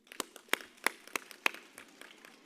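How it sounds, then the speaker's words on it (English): An audience at a university graduation ceremony claps for the graduating class, a thin scatter of separate sharp claps that thins out over a few seconds, fairly faint in a large hall. "May we all please give them a big round of applause."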